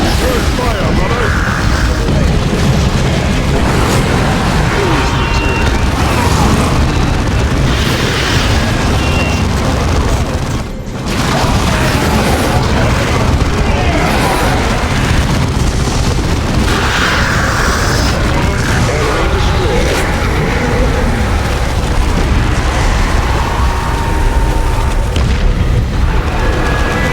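Grenade blasts and heavy battle noise from the Warhammer 40,000: Dawn of War 2 strategy game, a dense, continuous roar of booms and mechanical clatter with one brief lull partway through.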